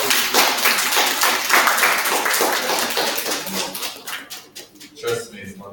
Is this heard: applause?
yes